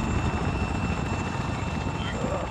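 A helicopter in the Arma 3 video game holds a loud, steady rotor and engine roar close by, and a voice can be heard under it.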